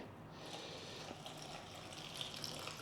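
Water poured from a tap into oats for a chocolate protein breakfast, a steady close gushing fill lasting a few seconds.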